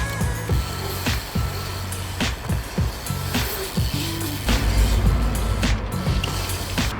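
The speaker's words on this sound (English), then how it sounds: "So let's try and do a foot jam." A BMX bike works a skate park quarter pipe while the rider practises a foot jam, producing a series of sharp clacks and thuds from tyres and frame hitting the ramp, close and moderately loud.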